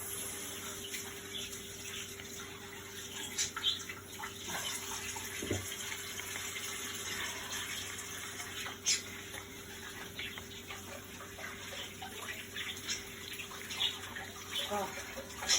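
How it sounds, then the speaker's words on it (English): Tap water runs steadily into a kitchen sink as hands are rinsed under it, a close, even splashing flow with small shifts and clinks. "Let me give my hands a rinse."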